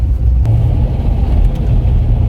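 An engine-swapped Corvette C6 Z06, untuned, gives a loud, deep, steady rumble up close, a sustained low idle-like drone with faint ticks on top rather than sharp rev peaks.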